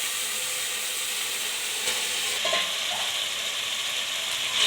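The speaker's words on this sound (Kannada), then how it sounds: "ಚಿಕನ್ ಹಾಕ್ಕೊಳ್ಳಿ" Chicken pieces dropped into a hot pan of masala and oil, a steady broad sizzle with scraping and clinking from stirring, growing a little louder toward the end.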